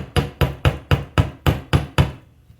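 Eight crisp metallic hammer strikes on earring wire ring out in a steady, quick rhythm, close and loud, then stop with a faint tap at the end.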